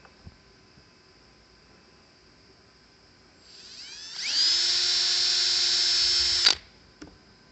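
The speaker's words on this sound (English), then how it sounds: "Drill a hole in the top." A small drill whines while boring a hole in the top of a wooden lathe-turned Christmas ornament, starting faintly, rising to a loud steady high-pitched whine for about two seconds, then stopping abruptly in a quiet room.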